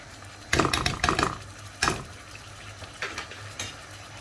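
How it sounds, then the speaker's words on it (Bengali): Ginger-garlic paste with cumin and coriander powder frying in oil in a pan, heard as a few loud scraping, clattering stirs in short bursts over a faint sizzle, with no talk. "মশলাগুলোকে খুব ভালো করে তেল বেরিয়ে আসা পর্যন্ত কষিয়ে নিতে হবে।"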